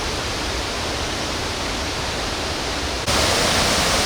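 Little B Waterfall on the Pakse Loop of the Bolaven Plateau pours in a loud, continuous roaring rush close by, growing louder partway through.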